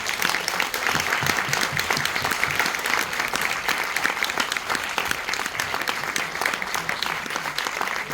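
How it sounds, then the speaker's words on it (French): Sustained, dense audience applause fills a Paris cinema before a film festival screening, a steady roar of many hands clapping with no pauses throughout. "Un tonnerre d'applaudissements pour Kim Bossol,"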